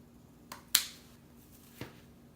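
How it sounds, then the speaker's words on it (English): Scissors cut pipe cleaners in half, giving a few faint, crisp snips close by in a quiet room: a soft click, then a sharper snip, and one more a second later. "I've got some pipe cleaners here. I'm going to cut in half."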